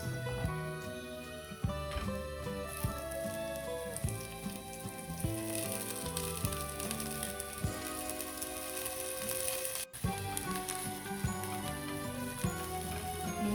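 Onion sizzles gently in a pan for sinigang na isda, a soft continuous crackle with light ticking, fairly quiet and steady throughout, no talking.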